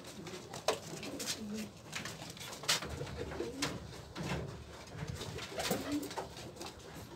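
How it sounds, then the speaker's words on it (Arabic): Pigeons cooing nearby in soft, repeated throaty calls with uneven rhythm, mixed with light rustling and a few sharp clicks against faint background noise. "هاد الوقيته ديال البداله خاص الحمام يدوش."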